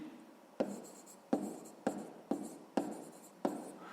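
Pen strokes on paper while working a sixth-grade maths exercise: six firm, evenly spaced scratches, each sharp at the start and trailing off, close and fairly quiet with no talk.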